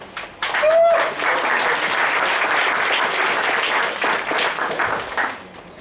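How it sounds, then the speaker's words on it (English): Audience applause at a Toastmasters club meeting welcomes a speaker to the stage, a dense wash of clapping that starts abruptly, holds steady for several seconds and then tapers off. "welcome him with a big round of applause"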